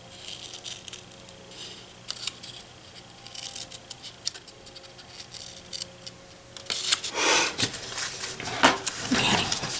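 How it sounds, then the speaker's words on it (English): Scissors snip and crunch through thin cardboard in quick bursts, growing louder and busier toward the end, with no voices. "I've got some thin cardboard here, so I'm going to use scissors"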